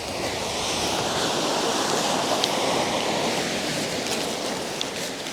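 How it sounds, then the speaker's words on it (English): Wind blows outdoors around a pitched 3F UL Gear Taihang 2 tent, a steady, loud, close rushing roar that buffets the microphone throughout without letup. "A bit of wind there blowing everything away."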